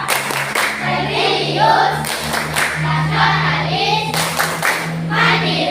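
A classroom group claps a rhythmic Tepuk PPK pattern in bursts of quick claps, with voices chanting between and over the clapping.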